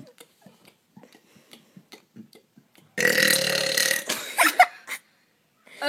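One loud, drawn-out burp of about a second, raspy and close to the mic, comes after a run of soft clicks and taps and is followed by a few shorter throaty bursts.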